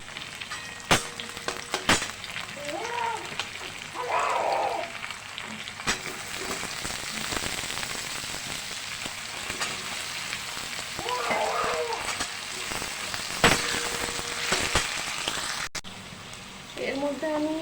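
Chopped onion sizzles in a pan for aloo posto with drumsticks, a steady crackling hiss running throughout, while someone talks intermittently over the frying.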